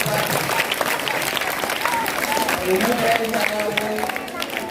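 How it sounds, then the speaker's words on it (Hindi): A crowd of students, parents and teachers at a school award ceremony gives sustained clapping, dense and steady throughout, with voices talking over it. "इन बच्चों के लिए जोरदार तालियां।"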